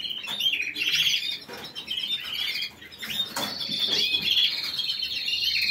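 Many small birds chirping and peeping continuously up close, a busy high-pitched chorus with occasional rustling.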